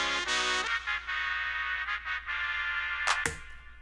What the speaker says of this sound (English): The other part you want to remember with the trumpet track are these little zones here where the auto filter kicks in.